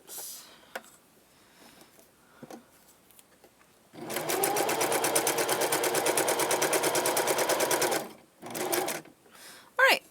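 Sewing machine stitching a second row of seams on fabric for a gothic lolita veil, a steady rapid mechanical whirr lasting about four seconds, with brief starts and stops and quiet handling noise around it.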